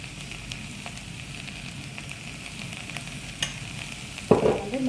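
Ground curry spice powder stirred and frying in oil in a pan for a vegetarian rice and curry, a steady soft sizzle with scraping spoon strokes and a louder clatter near the end.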